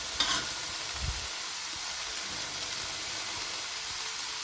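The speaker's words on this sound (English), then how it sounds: "And now I'm going to add the rice." Hot rice drops into a sizzling pan, a brief thump and clatter followed by steady, loud frying hiss with faint stirring scrapes, prepared for a barbecue spread.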